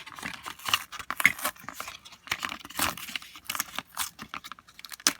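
Cut paper stamps being peeled off a sticky Cricut Explore cutting mat, giving a string of close, crisp crinkling and tearing rustles with short pauses between pulls.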